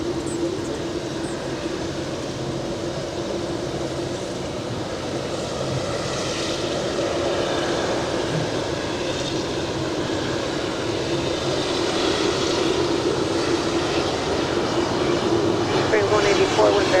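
Airliner jet engines rumble steadily at LAX, a continuous broad roar that swells slightly over time, with a nearby voice talking now and then over the engine noise.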